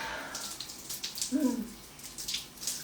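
Running water splashes and trickles steadily as honey mud is rinsed off skin, a soft close wash with small splatters and a brief louder gush in the middle.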